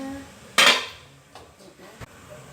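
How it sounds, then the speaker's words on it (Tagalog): A frying pan set down for cooking an omelet gives one loud, bright metallic clank, followed by softer clinks and a sharp tap of cookware, close by in a quiet kitchen. "ngayon naman lalagay ko na ang kawali"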